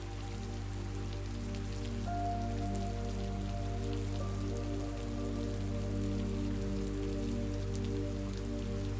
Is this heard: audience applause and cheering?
no